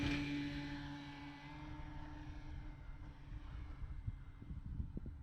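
A Carbon Z Cub RC airplane takes off in safe mode without flaps, its propeller motor whining from a steady drone into a fainter, more distant buzz, with wind rumble on the microphone.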